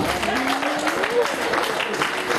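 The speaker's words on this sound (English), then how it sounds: "Clap if you want to clap." Wedding guests clap along in a hall, a dense spread of claps mixed with crowd noise and a sliding voice-like tone, with people talking over it.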